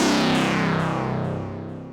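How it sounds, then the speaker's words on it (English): Oscillator sync effect from a modular synth patch, heard alone: a loud, bright, buzzy tone with a sweeping, tearing timbre that slowly darkens and fades over about two seconds. "So on its own, it sounds like this."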